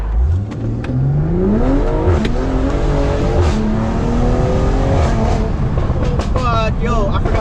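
A 600-horsepower Stage 2 2020 BMW M340i revs hard and climbs through the gears up close, with sharp exhaust pops and crackles, while people talk over it.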